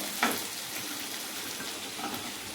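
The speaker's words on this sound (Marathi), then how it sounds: "तर हे 5 मिनिटं असंच शिजून घेऊ आपण, म्हणजे फ्राय करून घेऊ" Capsicum fries with mixed vegetables in a pan, giving a soft, steady sizzle throughout with a brief clatter near the start, quiet and close, with no talk.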